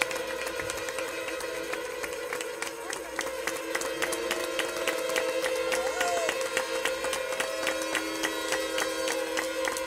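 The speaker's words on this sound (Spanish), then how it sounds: "Póngase de pie y aplauda al Padre." A church congregation, on its feet, applauds the priest in a sustained burst of rapid clapping from many hands, growing slightly louder over several seconds, with organ-like tones ringing beneath.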